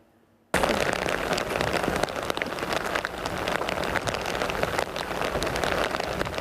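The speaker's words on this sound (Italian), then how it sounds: "Pioggia scrosciante" Heavy rain pours down between Casale and Roncada near the Sile river in the Treviso area. A short silence gives way abruptly to a loud, dense, steady hiss with scattered sharp drops and cracks.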